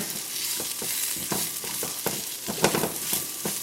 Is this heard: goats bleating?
no